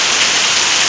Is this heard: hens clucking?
no